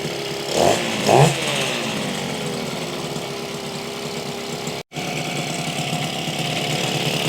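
Yamaha HS1 90 twin motorcycle engine runs steadily nearby, a continuous buzzy idle with a couple of quick blips of the throttle early on.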